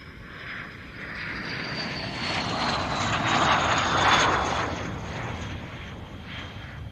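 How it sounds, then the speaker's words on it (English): An aerobatic airplane makes a pass over the 2023 Joint Base Lewis-McChord airshow. Its engine roar swells to a broad peak at the midpoint and then slowly fades away, heard alone without any voices. "that was a quick pass to take a look at the aircraft"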